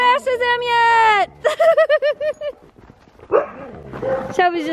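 Several dogs bark and yip at close range during rough play with a puppy, with sharp rhythmic barks in bursts, a pause, then more barking and a whimpering yip.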